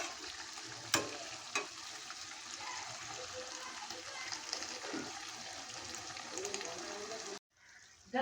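Goat meat sautés in hot oil in a wok, a steady close sizzle with stirring scrapes and a couple of sharp clinks, ending in a brief cut to silence.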